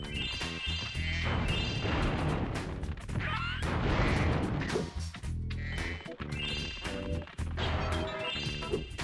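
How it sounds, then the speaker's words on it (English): Explosions and crashes in the Spyro Year of the Dragon video game, a rapid series of loud bursts and smashing impacts layered over game music and effects, continuing throughout. "Explosions!"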